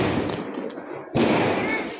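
A Diwali firecracker goes off with one sharp, booming blast partway through, cutting through a steady wash of outdoor noise and people's voices.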